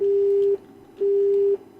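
Phone hang-up tone in the Resident Evil video game: two loud, steady electronic beeps about half a second each, separated by a short silent gap.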